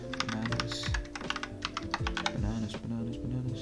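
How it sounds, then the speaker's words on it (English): Rapid keystrokes on a computer keyboard as a password is typed, a steady close-up clatter of irregular taps running throughout over faint background tones. "Never really got good at typing in the old passwords"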